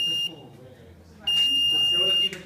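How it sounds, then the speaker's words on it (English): A buzzer on a smart firetruck robot car sounds a steady, loud, high-pitched electronic tone, drops out briefly, then returns for about a second before cutting off, with talking underneath. "when a sensor goes on, a buzzer goes on and a siren from an LED"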